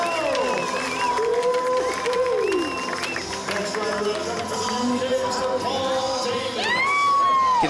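Large standing-room crowd cheering and whooping around a concrete skateboard pool during a masters pool session contest, a steady loud wash of voices with scattered whistles and shouts, some nearby talk mixed in.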